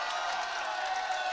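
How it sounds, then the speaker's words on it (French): A live audience at a Zimmer set for Cercle at Papa Cabane in Paris applauds steadily in a dense, continuous wash of clapping, with faint crowd voices underneath. "faites un tonnerre d'applaudissements pour Finn"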